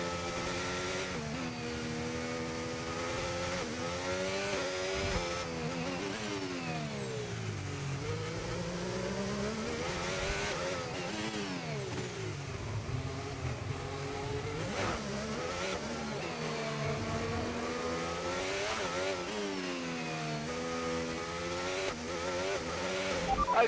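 F1 car engine screaming through rising and falling gear changes around the Monaco street circuit in F1 25, a continuous high-revving whine with downshifts and acceleration sweeps, loud and close with no talk.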